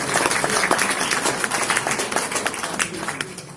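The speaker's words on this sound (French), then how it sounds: "qu'on peut applaudir" An audience applauds at a January New Year's greetings presentation. The clapping is dense and loud from the start, with crisp individual claps, and it tapers slightly toward the end.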